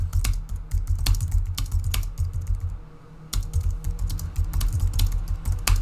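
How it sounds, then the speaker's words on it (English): Steady typing on a computer keyboard, a fast run of crisp key clicks close by, with a brief pause midway before the tapping resumes. "if I keep typing"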